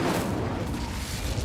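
Incendio fire spell cast in Hogwarts Legacy, a loud, rumbling burst of roaring fire with a heavy low boom that fills the short moment.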